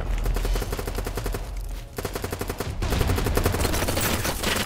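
Automatic rifle fire in BattleBit empties a whole magazine in long, rapid, loud bursts with a brief gap midway before the firing resumes steadily.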